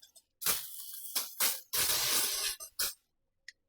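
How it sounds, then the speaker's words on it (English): Several short hissing bursts of cooking spray into a 9 by 13 casserole dish, close up, with one longer spray in the middle and brief pauses between. "Now we're going to take a 9 by 13 casserole dish. I'm just going to spray it."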